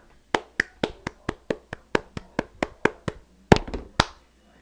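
A steady run of about thirteen sharp, evenly spaced hand claps close by, followed by a quicker flurry of three or four claps at the end.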